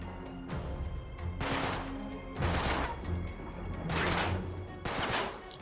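Bursts of gunfire from a shooting sequence in the video game Uncharted 3: Drake's Deception, five loud rapid bursts separated by short pauses, no talking.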